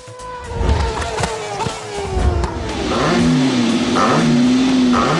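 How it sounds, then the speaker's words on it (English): A Formula One car engine roars and revs loudly up close during donuts, pitch sweeping as it accelerates, with a sustained high whine toward the end. "thrilling the fans with donuts and the roaring sound of the engine"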